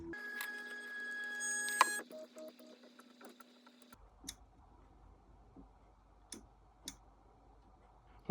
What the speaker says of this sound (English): And then I will home the machine.